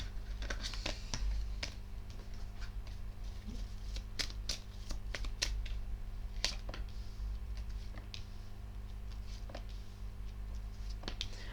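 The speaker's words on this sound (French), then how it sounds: "Je sais pas pourquoi j'ai mélangé les cartes." Tarot cards are shuffled by hand nearby, a quiet run of rapid papery flicks and taps over a low background hum.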